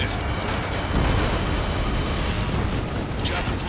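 Missile hit exploding on an aircraft in the combat flight video game Ace Combat 7, a loud sustained roaring rumble with a brief crackling burst near the end.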